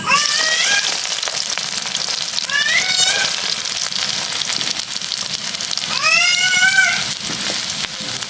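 Chopped onion goes into hot oil for a river fish curry and fries with a strong, continuous sizzle up close, broken now and then by faint squeaky scraping from stirring.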